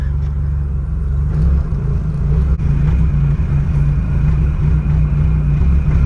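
A Mazda Miata with a freshly bled clutch, new shift knob and new shifter bushings creeps forward under its own power for the first time, a steady low engine rumble droning on without a break, close and fairly loud.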